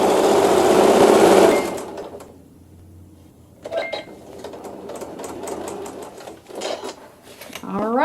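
A sewing machine stitches a fabric seam, a loud whirring burst at first, then a pause and short bursts of rapid mechanical clatter with handling noises.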